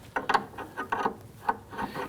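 A wrench works a rear brake hose fitting on a 2013-2019 Ford Interceptor Utility, giving a few short ratcheting clicks and scraping metal turns in quick bursts, close and fairly quiet with no talk.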